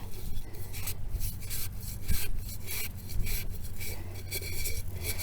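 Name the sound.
scrubbing soil off a clay olla with a sponge scrubber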